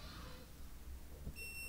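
An LG clothes dryer gives a brief, faint electronic beep as smart mode is switched on, sounding near the end of an otherwise quiet stretch of low room hum.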